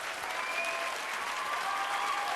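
TV studio audience applauding three finalists of a French talent show, dense continuous clapping at an even level throughout.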